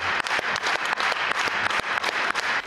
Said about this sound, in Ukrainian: Найбільше овації для захисників та захисниць.